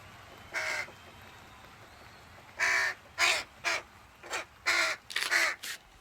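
A crow, apparently a tame one, gives a series of harsh caws near the listener: one early call, a pause, then several rapid caws in irregular bursts, with no talk.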